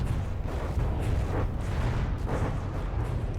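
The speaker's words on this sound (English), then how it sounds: "Volley fire!" A saturating artillery volley in the naval combat game From the Depths, a sustained low rumble of overlapping booms and distant blasts pulsing steadily with no voices.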